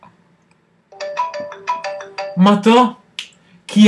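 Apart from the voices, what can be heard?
phone ringtone from a fake call app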